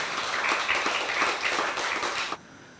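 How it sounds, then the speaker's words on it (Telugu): An audience at a Bhagavatam discourse in a Satya Sai temple claps together for about two seconds in a loud, rhythmic burst that stops abruptly, leaving near silence. "ఎంత మనం గట్టిగా కృష్ణుడికి చప్పట్లు కొట్టాలి"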